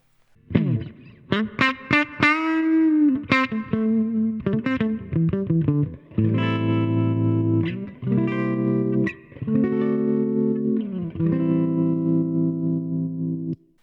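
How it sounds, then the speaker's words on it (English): An electric guitar plays through a Roland Cube amp, notes pulsing with tremolo and washed in reverb, first bright single-note licks, then sustained strummed chords ringing out. "I'm going to set up a little bit of tremolo on there, a little bit of reverb"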